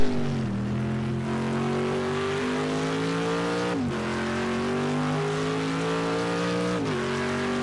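Vintage race cars at full speed on the Circuit de la Sarthe at Le Mans, a loud, steady engine roar with sustained high revs and brief pitch drops at gear changes, close and continuous.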